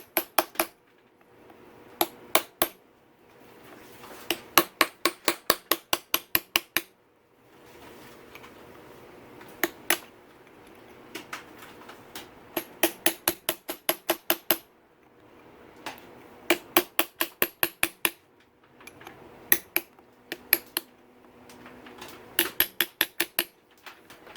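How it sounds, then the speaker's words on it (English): Sharp metallic taps of a hammer striking a punch to bend locking tabs on a KTM 450SXF clutch come in quick bursts of several hits, pausing between groups, close and distinct. "got a little punch so I can knock these locking tabs over"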